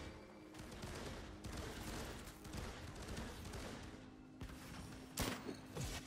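A deployed turret fires in the video game Firefall in a steady, continuous burst of rapid gunfire, loud and sustained, with a few heavier thumps near the end.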